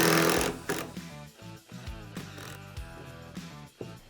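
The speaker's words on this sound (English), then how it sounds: "We're gonna screw these together using a screw that's less than 3 inches so it doesn't go all the way through." Screws driven into 2x4 lumber pieces while assembling a collapsible sawhorse, a loud close burst followed by several whirring, grinding bursts of a driver with brief gaps between them, no talking.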